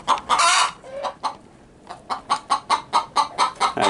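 A laying hen in a chicken coop clucks loudly and close by, starting with a harsh burst, then a short pause, then a steady run of about ten rhythmic clucks.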